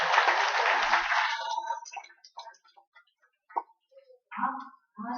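Volunteers clap for a group of children after a performance, a dense burst of applause that fades within a couple of seconds into scattered faint ticks and clatter.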